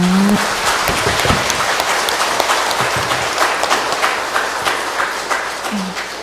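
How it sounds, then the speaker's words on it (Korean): Audience applause of thanks at a church service, a dense, steady wash of clapping from many hands that carries loudly through the whole stretch and fades slightly toward the end. "수고하신 분님께 감사의 박수를 드립니다."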